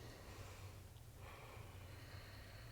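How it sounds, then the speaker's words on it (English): An exhale through the right nostril during alternate nostril breathing, a soft steady airy rush held close to the microphone with no talk. "Seal off the left nostril and exhale through the right."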